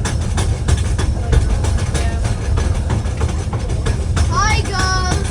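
Cable-pulled cave train at Marvel Cave rumbling and clattering steadily up the incline, loud and continuous, with metallic squeals near the end and a voice speaking over it.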